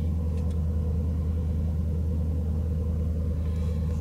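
A V8 Jeep Grand Cherokee engine idles high after throttle position sensor work, a steady low rumble close by.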